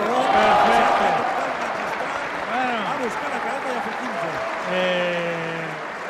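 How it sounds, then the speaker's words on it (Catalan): Crowd at a Valencian pilota match applauding a winning point, sustained clapping from the stands under a commentator talking throughout. "Està aplaudint tot el món"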